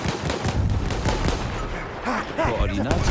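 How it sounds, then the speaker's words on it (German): Artillery barrage in the World War I shooter Battlefield 1 on the Amiens map, heavy booming impacts and gunfire layered over continuous battle noise, with a voice talking over it. "Jawohl, die Artillerie hat gesessen, hat dadurch meinen ersten Kill gebracht"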